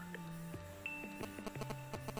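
Message notification chime from the Nom Nom Galaxy video game, a short high tone sounding faintly over a quiet bed of steady game tones and soft clicking effects.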